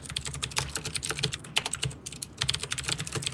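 Computer keyboard keys clatter in quick, irregular bursts of close, crisp clicks with short pauses between runs, no one speaking.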